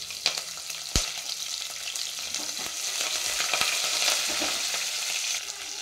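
Garlic, curry leaves and green chilies fry steadily in hot oil, a continuous close sizzle with brief stirring scrapes and a sharp clack near the start.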